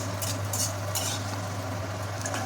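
Cashews and raisins fry in ghee for semolina barfi, giving a steady close sizzle with light stirring and faint clinks of a utensil against the pan, under a constant low hum, with no voices.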